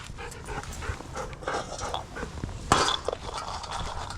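A husky breathes with quick, rhythmic panting after eating, close and fairly quiet, with a few soft clinks and shuffles around it.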